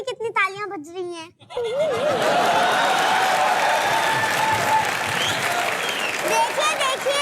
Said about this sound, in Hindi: देख भी रहे हैं मेरे लिए कितनी तालियां बज रही हैं।